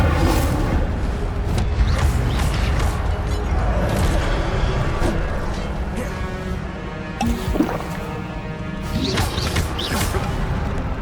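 Incendio fire spell cast during Hogwarts Legacy combat: repeated loud crashing, whooshing bursts and thuds amid busy battle noise, with voices briefly heard.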